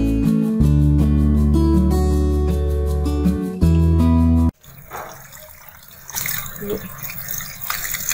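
Tap water runs steadily while raw qurbani meat is rinsed after soaking, a broad hissing splash that begins midway after a stretch of music and continues to the end.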